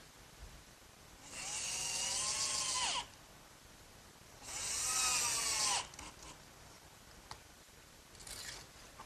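Power drill driving screws into glued feet on a plywood workbench, two distinct whirring bursts of about two seconds each with a short third burst at the end, quiet shop room between, no talking.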